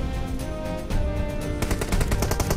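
Rapid gunfire in a first-person shooter match around smoke grenades near a garage roof, a dense burst of automatic shots that grows louder and busier in the second half, over steady game ambience.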